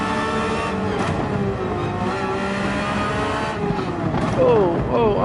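A Porsche 911 GT3 in Gran Turismo 7 slowing hard into a corner: the engine note falls and rises through braking downshifts, with a touch of tire squeal and a final rev, while a person talks over it.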